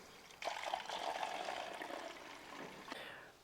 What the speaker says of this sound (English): we need to make sure that we prime it. So we actually need to add some water to it